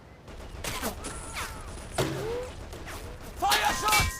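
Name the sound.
gunfire in Men of War video game battle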